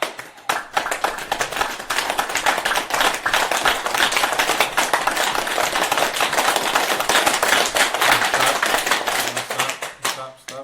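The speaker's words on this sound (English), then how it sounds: "Clap your hands." A group of people clapping their hands during a spiritual teaching session, dense continuous rapid claps for about ten seconds, loud and close, with talk mixed in.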